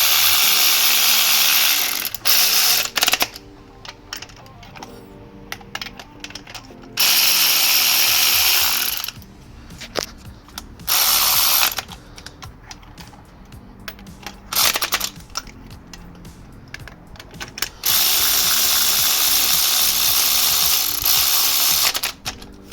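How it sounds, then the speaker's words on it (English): An electric ratchet screws down spark plugs on a 2019 Audi A4 TFSI engine, loud buzzing whirring bursts of several seconds each separated by quieter pauses with small clicks and handling noises. "just screw it down with the electric ratchet"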